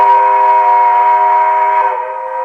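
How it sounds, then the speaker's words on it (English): Whistle from a G-scale model train sound system, a loud, steady steam-style chord held as one long continuous blast that softens slightly near the end. "The whistle will blow. So you can blow the traditional grade crossing of 2 longs, a short, and a long."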